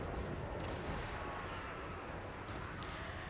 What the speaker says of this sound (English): God, those magma cannons hit like trucks.